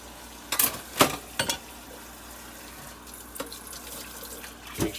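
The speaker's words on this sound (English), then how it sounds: "refreshing it with hot soapy water once again." Hot soapy water runs from a kitchen tap into a sink, a steady close hiss broken by several sharp splashes and clatters of dishes or water.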